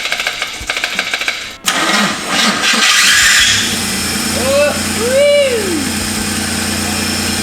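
A turbocharged Ecotec engine in a VS Ute cranks and fires up for the first time, then settles into a steady idle with a rising and falling rev, while people talk over it.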